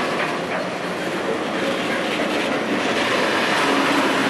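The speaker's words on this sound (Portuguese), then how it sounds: "A locomotiva tá entrando ali na chave ali, ó." An SD40-3 locomotive leading a freight train rolls past on the rails, a continuous loud rumble with wheel clatter and steady rail noise, no voices.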